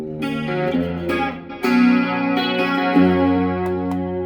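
A PRS SE Silver Sky electric guitar through a BOSS GT-8 plays sustained chords, first with a cleaner tone, then a louder, distorted sound kicks in, with no talking.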